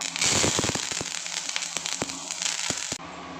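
Rapid, irregular pops and crackles over a steady sizzle, like mustard seeds spluttering in hot oil, close and lively before the sound cuts lower.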